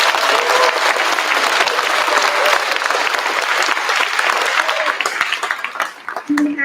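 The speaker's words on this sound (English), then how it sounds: "give him a nice round of applause." Audience at a school fifth grade chorus spring concert claps in a dense, loud round of applause that tapers toward the end, with a voice briefly speaking as it fades.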